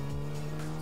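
A custom mid-engine Mini's high-revving engine holds a loud, steady, buzzing tone for under a second, close and alone without voices.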